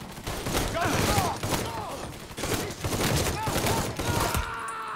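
Dense video-game gunfire from Mafia 3, a rapid run of loud shots and bursts with thumps packed across the clip, breaking off abruptly near the end.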